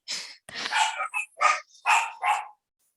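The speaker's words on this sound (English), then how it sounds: "Probably keeping the dogs quiet for now." Dogs barking close by, six or seven sharp loud barks in a quick uneven burst, some higher yips among them, with silence after.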